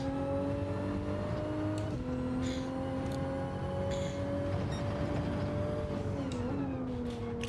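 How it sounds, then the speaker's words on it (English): A race car in the Gran Turismo 7 racing game, on soft tires, holds a steady engine drone with gear-shift pitch drops, loud and continuous throughout. "Let me crank up the volume so I can hear the car better."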